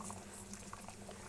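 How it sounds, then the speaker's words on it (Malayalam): A pot of fish curry simmering on the stove, giving a steady, close bubbling and soft popping patter that runs evenly throughout with no voices. "മീൻ തിളച്ച് ഇനി നമുക്ക് ഉപ്പിടാം"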